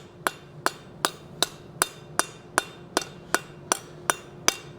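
A hammer strikes a hot steel forging for a wolf head door knocker, eleven sharp ringing metallic blows falling in a steady, even rhythm about every second, close and clear with no talk.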